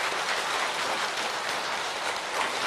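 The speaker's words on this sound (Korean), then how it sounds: "이때 박수가 나야지." An audience at a Buddhist dharma talk on the ten stages of the Avatamsaka teaching claps in dense, even applause that holds steady and close throughout, with no voices.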